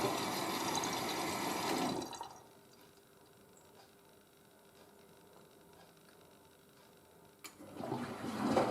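Water pours and rushes into the drum of a Miele W562 Prestige Plus 6 washing machine as it fills, loud at first, then dropping to a quiet steady trickle before surging again at the end.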